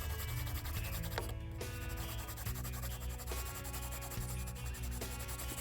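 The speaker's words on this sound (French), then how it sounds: "je gomme les alentours parce que comme ça, c'est beau" An eraser rubs back and forth over a pencil drawing on paper, making soft continuous scratchy friction close up, with no talking.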